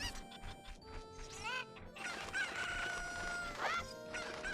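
Cucco chickens in the Ocarina of Time video game crow and cluck repeatedly, with several rising crow calls and scattered clucks over game background music.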